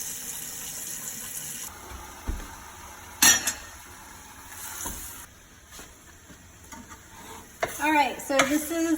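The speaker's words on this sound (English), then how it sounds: "The next step is to brown the meat. So I'm gonna take 4 pounds." Four pounds of ground beef browning in a pan for sloppy joes, stirred with scraping and clattering against the cookware over a soft steady sizzle, with louder clanks of utensils near the end.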